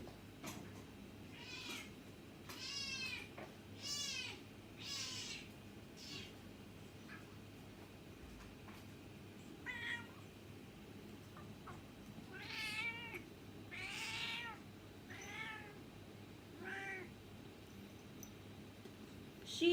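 A cat meows repeatedly, short insistent calls spaced every second or two, fairly close over a quiet background hum.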